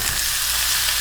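Frozen cauliflower florets and mixed vegetables fry in a hot pan with a steady, close, even sizzle that holds through the whole second, no voices over it.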